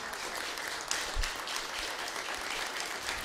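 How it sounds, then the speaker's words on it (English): Audience at a city council meeting breaks into sustained applause, a dense, steady wash of many hands clapping at moderate loudness throughout. "give you all a standing ovation and"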